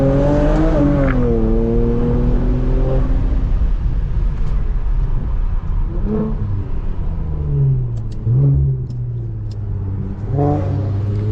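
The engine of a JB4-tuned Infiniti Q50 revs and pulls hard under acceleration, climbing through gears with a loud, close, droning tone and short dips at each shift.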